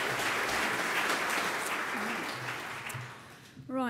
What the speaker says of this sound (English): Round of applause, ladies and gents, for our two presenters here in this session.